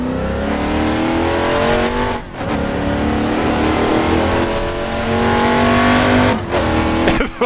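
A GMC Vandura 1500 van in the racing game Assetto Corsa drones loudly and steadily, engine pitch climbing under acceleration, with two brief dips where gears shift before the revs rise again.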